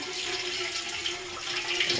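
Coriander leaves being rinsed a second time in a basin of water, giving a steady continuous swish and trickle of running water, close and moderately loud with no talking.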